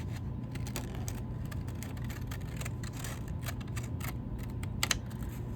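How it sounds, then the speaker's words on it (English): Scissors snipping paper while fussy cutting flower shapes for a vintage collage, a quiet close run of small irregular clicks and snips with no talking. "So I'm just going to kind of fussy cut that out real quick."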